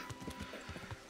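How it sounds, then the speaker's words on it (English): Horse hooves gallop in a quick, even rhythm of soft thuds in the video game Kingdom Come: Deliverance, close and clear, over a faint background hum. "Go, horse!"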